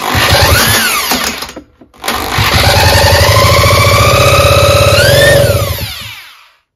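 An electric drill whines loudly as it cranks a Solex 1700 moped engine, a brief pause, then a long sustained spin rising in pitch before winding down.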